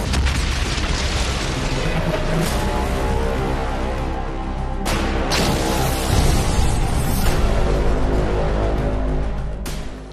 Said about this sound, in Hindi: छोटा धमाका भी बड़ा शोर कर सकता है।